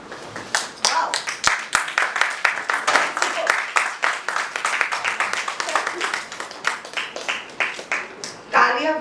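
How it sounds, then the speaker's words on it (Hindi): An audience at a book launch celebration applauds, with many hands clapping in a brisk, dense rhythm, loud and sustained, and voices mixed in beneath the clapping. "तालियां बजते रहेंगे."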